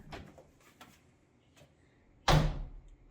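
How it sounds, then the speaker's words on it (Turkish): A door is pushed open with a sudden loud creak-and-thud near the end, following a few softer knocks or handle rattles in a quiet room. "aç şu kapıyı"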